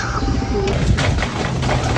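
Racing pigeons cooing softly at a pigeon race arrival in Agdangan, Quezon, amid a busy, noisy outdoor background, with a few flutters and low thumps nearby.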